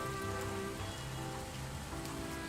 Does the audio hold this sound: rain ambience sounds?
yes